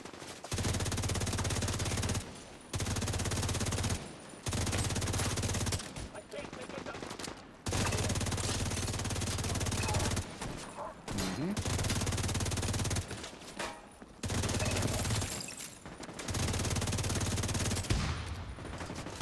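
Bursts of automatic enemy gunfire in The Division 2, several loud stretches of rapid shooting broken by short gaps, close and continuous.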